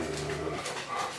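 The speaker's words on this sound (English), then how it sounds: "What happens when you have 3 big dogs? 3 great big dogs." A big dog whimpers in a high, wavering whine, close by and fairly steady for about a second, with no talking.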